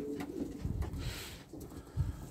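Pigeons coo at a pigeon loft, with several low, throaty coos pulsing through the clip and a stronger one near the end, amid soft rustling and no speech.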